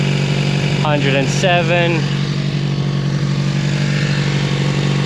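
A 1982 Honda V45 Sabre cafe racer motorcycle idles at around 1000 to 1100 RPM, a steady, even low rumble that stays close and constant while someone talks briefly over it.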